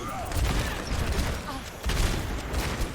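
Rapid gunfire bursts from the video game Overwatch during a competitive esports match, with a Widowmaker sniper among the shooters, forming a dense, continuous barrage of shots and impacts throughout.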